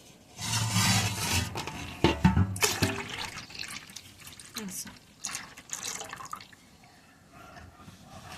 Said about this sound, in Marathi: हे पाणी काढून घ्यायचं